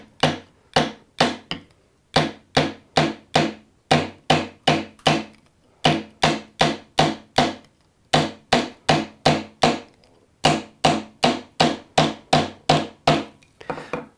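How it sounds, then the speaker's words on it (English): Hammer taps on the steel hoop of a Japanese chisel, struck with the rounded side of the hammer: sharp, evenly spaced strikes in bursts of four to six, loud and close with brief pauses between groups. "take the rounded side of your hammer, and then just here, below the line that it's already showing there,"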